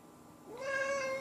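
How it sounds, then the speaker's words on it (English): A hungry cat lets out a single clear meow, rising then holding steady, close and fairly loud with nothing else over it. "Meow. He's hungry. My cat's hungry."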